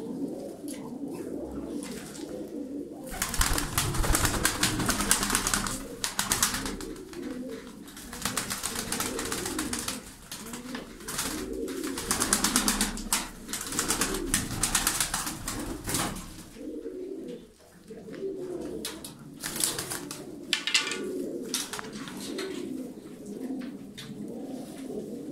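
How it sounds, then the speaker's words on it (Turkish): Iraqi tumbler pigeons, a flock of play birds, coo steadily throughout, with layered soft calls and occasional wing flutters close by. "Bunlar Irak oyun kuşlarıdır arkadaşlar."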